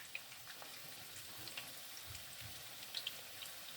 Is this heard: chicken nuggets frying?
yes